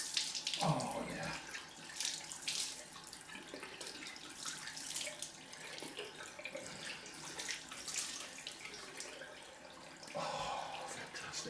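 Cold water runs from a bathroom tap into a sink during a straight-razor shave, a continuous splashing hiss with shifting bursts as hands move through the stream, moderately close, with a voice briefly over it.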